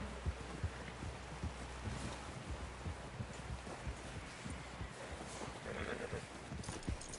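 Horse hooves clip-clop in a steady, fairly quiet rhythm in Red Dead Redemption 2 as a rider arrives, set against a dense low background rumble with no clear talk.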